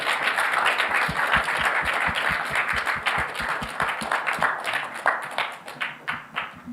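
Attendees at a health policy session on hepatitis elimination applaud their panel, a warm round of clapping with distinct nearby hand claps that gradually tapers into sparser, separate claps toward the end.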